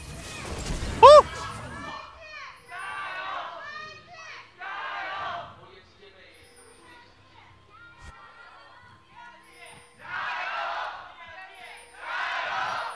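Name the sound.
esports arena crowd cheering at League of Legends match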